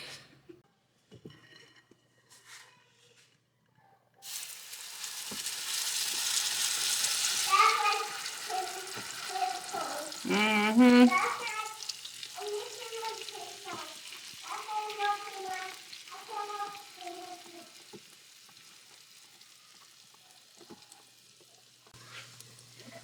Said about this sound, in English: See, that's what you want. That right there. The sizzle.